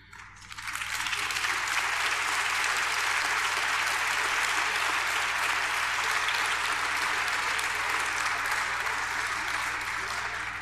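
Audience at a Paris rally breaking into applause, a dense, sustained wash of clapping that swells within the first second and holds loud and steady to the end.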